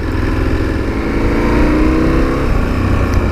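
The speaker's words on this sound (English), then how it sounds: "Engine sounds quite nice and purposeful as well out of this stock exhaust." A 2017 KTM 1290 Super Adventure S motorcycle engine through its stock exhaust, a loud, steady, purposeful drone heard up close while riding, with mild rises in revs and no talking.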